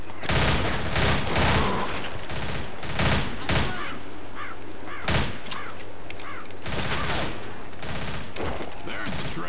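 Gunfire from a weapon in the zombie shooter Left 4 Dead, set in a woods level: loud rapid bursts and repeated single shots with booming thuds, continuing through the whole stretch with brief gaps, some speech faint underneath.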